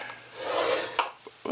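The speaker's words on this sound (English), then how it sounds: "you're just going to score at 1 inch all the way around" A scoring tool drawn along cardstock at one-inch lines for a gift box gives a close, dry rasping scrape lasting about a second, followed by a few shorter scratchy strokes.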